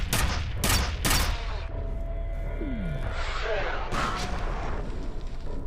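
Gunfire from the shooter game F.E.A.R.: several sharp, loud shots burst out at the start, followed by a rumbling, noisy combat bed while a person talks over it.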